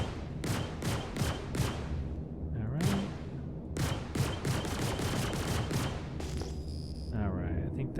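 Sharp gunshots ring out in the sci-fi game Star Citizen as enemy gunmen are shot down. Rapid volleys come close and loud, with a brief pause between, over a dense rumbling game backdrop.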